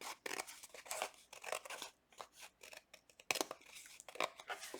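Scissors snip along the extra border of a cardboard box, a run of crisp, close cuts with short pauses between strokes and no talking.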